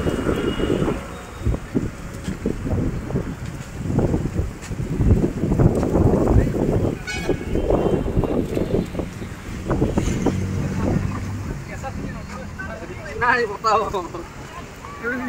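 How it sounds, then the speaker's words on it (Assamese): Strong storm wind buffets the microphone in heavy gusts outside a hospital in Guwahati, roaring steadily throughout, with muffled voices and faint background noise under it. "খুব বতাহ ধুমুহা আহিছে।"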